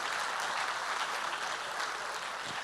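An audience at a theatre's reopening ceremony applauds dignitaries, a short, steady burst of dense clapping filling the room at moderate loudness.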